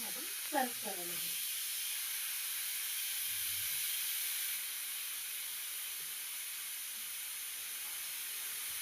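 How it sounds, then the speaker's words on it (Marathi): Steam hissing steadily out of a pressure cooker after it has whistled, during home cooking of a vegetable dish; a loud, even hiss runs throughout after a brief spoken word at the start. "आता आपण याची वाफ काढून घेऊ"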